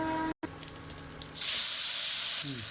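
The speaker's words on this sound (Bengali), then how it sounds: "কড়াইয়ে তেল দিয়ে দিলাম পাঁচফোড়ন দিয়ে দিলাম" Five-spice seeds hitting hot oil in a wok, erupting into a loud, steady sizzling hiss that holds for over a second, close by, after a few quieter kitchen clicks.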